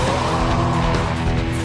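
A rear-wheel drive BMW 335i launches hard from a standing start line on a test track, its engine roaring loud and close with a broad, constant rumble and a hint of tire noise.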